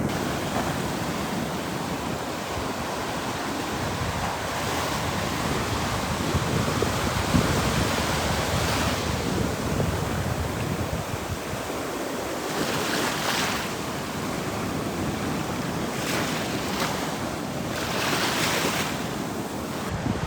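Ocean surf breaks continuously on a beach at low tide, a steady broadband wash with rolling swells and periodic louder crashes, roughened by wind buffeting the microphone; no voices.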